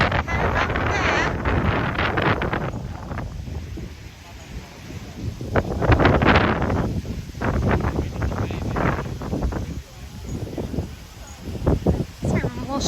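Strong gusty wind blasts across a beach on Castaway Cay, buffeting the microphone in loud rumbling surges that rise and fall throughout, with a person speaking between the gusts.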